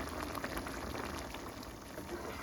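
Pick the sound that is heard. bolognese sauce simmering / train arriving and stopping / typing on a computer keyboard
bolognese sauce simmering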